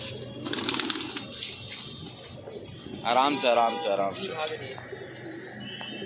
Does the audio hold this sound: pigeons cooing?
yes